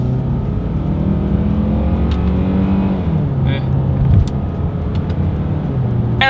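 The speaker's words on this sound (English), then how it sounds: "we are going to do an acceleration test, a paddle shifter test here together" A 2021 Hyundai Santa Fe SUV accelerates from first gear using the paddle shifters, its engine rising in a steady loud drone with stepped pitch changes as it shifts, heard from inside the cabin with faint clicks.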